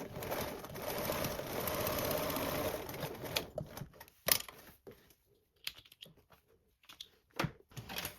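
Close up, a sewing machine bastes a panel at a 1/8 inch seam allowance in one steady run of fast stitching, then stops and leaves a few scattered clicks and handling knocks.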